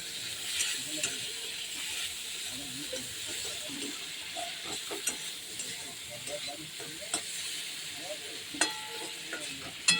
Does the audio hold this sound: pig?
no